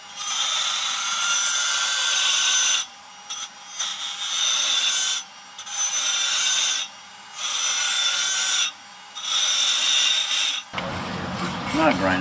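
Hand file rasping on metal while working on a Mazda RX-8 turbo project car: steady, loud scraping strokes in five or six long passes with brief pauses between, then a clunk and handling noise at the end.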